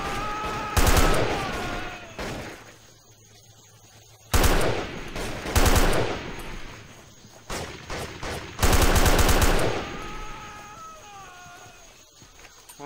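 Automatic rifle fire in an online shooter game, with three loud sustained bursts, each a second or two long, separated by quieter stretches of game ambience and scattered distant shots.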